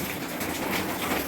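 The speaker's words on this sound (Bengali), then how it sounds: "বাইরে প্রচণ্ড বৃষ্টি হচ্ছে।" Heavy rain pours steadily outside, a dense, even wash of patter with no break across the short stretch and no voices.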